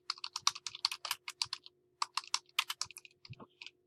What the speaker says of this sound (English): So you can type your information.